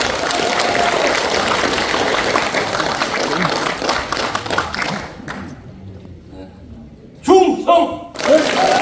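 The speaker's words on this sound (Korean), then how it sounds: "큰 박수 부탁드립니다" Crowd applause at a Korean veterans' ceremony as a Democratic Party supreme council member steps up to speak, a broad clapping wash that thins and dies away, followed by a pause and then a loud spoken greeting.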